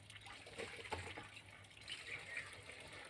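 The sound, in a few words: water being poured in to prime a farm water pump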